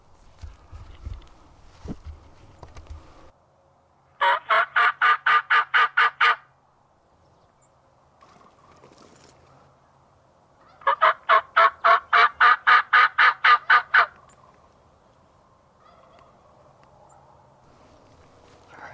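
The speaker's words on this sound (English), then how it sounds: "I've had him gobble 3 times, but he's not getting any closer" A wild turkey answering a hunter's calls lets out two rapid rattling gobbles, each a couple of seconds long, moderately distant on a prairie with quiet between them.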